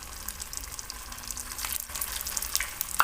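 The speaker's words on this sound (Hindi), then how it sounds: "अब इनको हम फ्राई करेंगे। अभी हमने बड़ा तलने के लिए तेल गरम कर लिया है।" Vadas fry in hot oil for a vrat thali, giving a steady, moderately loud sizzle and bubbling hiss close by, with no talking.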